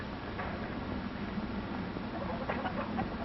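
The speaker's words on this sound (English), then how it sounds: "They are white leghorn chickens, wide awake now, and waiting for breakfast." White leghorn chickens, hens with a rooster among them, cluck and murmur together in a steady, close flock chatter that carries through the whole stretch without pause.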